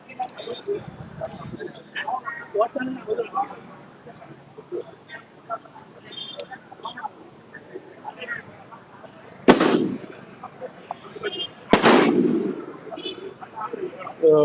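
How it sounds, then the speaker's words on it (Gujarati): Fireworks and firecrackers go off at a lawyers' association celebration in Padra for the newly declared president: two sharp, loud bangs a couple of seconds apart cut through a steady murmur of crowd noise. "ભવ્ય આતિશબાજી તેમજ ફટાકડા ફોડી"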